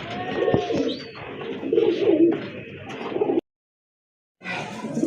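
Pair of round-bodied pigeons cooing close by, several soft throaty coos in a row, a short gap of silence, then more cooing.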